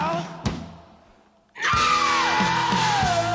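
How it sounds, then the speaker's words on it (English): A long, raw, wavering vocal scream bursts out loud over the band's instruments in a song, following a quieter instrumental passage. "That scream."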